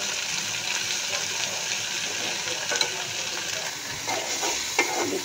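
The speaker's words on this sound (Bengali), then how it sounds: "আমি একটু ঢেঁড়সটা ভাজি করে নিচ্ছি।" Okra frying in a pan gives a steady, close hiss of sizzling oil, with faint stirring scrapes and a few brief clicks and pops throughout.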